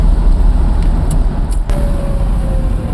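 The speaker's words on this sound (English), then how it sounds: "I'm going to downshift and turn right here, and then we'll go into second and we'll get a little bit more spirited." 1967 Corvette with 400 HP Tri-Power V8 rumbling loudly from close by while downshifting into a turn, a dense, throbbing engine roar with a brief dip and a faint whine emerging afterward.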